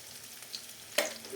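Tomato and turmeric sizzle in a frying pan as they are stirred, a soft steady frying hiss with a sharp scrape of the spoon near the end, quiet and close with no talking.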